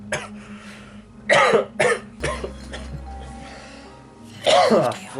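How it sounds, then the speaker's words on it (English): Several harsh, explosive coughs in bursts, loud and close, with throat-clearing sounds between them. "I just have another coughing fit"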